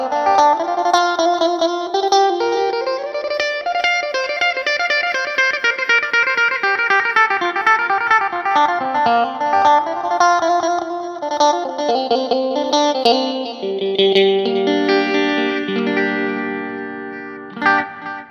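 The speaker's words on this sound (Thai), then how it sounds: "ก็จะมีแค่นี้เดี๋ยวเรามาฟังเฟเซอร์กัน" An electric guitar runs through the phaser effect on a Line 6 POD HD500X, with sustained, shimmering chords and notes that sweep and swirl steadily for the whole passage and fade out at the end.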